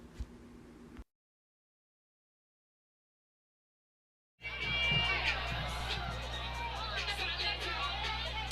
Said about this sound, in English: The crowd's having some fun here at Simmons Field, and why not?